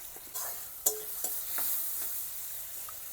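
A spatula scrapes and stirs spice paste with tomato, bay leaf and five-spice in a frying pan for a Bengali katla fish curry. A faint sizzle runs underneath a few soft clinks and scrapes, quiet and close.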